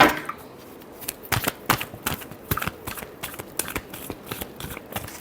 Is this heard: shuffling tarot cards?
yes